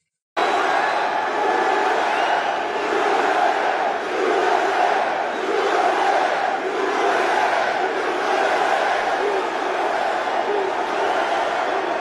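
A large crowd at a Trump rally in Philadelphia roars and chants steadily, a loud, dense wall of voices swelling in rhythmic waves after a sudden start.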